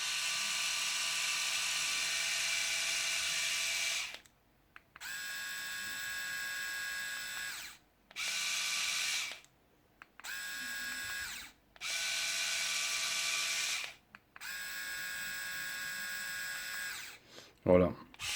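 A Philips electric shaver runs at its single speed in a series of steady high-pitched buzzing bursts, switched on and off several times with short silent gaps between.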